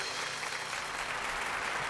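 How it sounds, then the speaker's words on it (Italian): Audience applause at a circus show, a dense, continuous wash of clapping from a crowd under the big top, fairly distant and even throughout. "facciamo un grande applauso, grande!"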